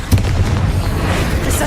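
Incendio fire spell cast during combat in the Hogwarts Legacy video game, a dense booming fiery burst that swells quickly and rumbles on steadily for nearly two seconds, loud and close.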